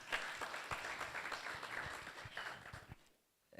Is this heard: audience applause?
yes